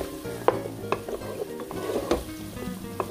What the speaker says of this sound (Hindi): इसको भी 2 से 3 मिनट तक ही हम पकाएंगे ताकि ये थोड़ा सा सॉफ्ट हो जाए।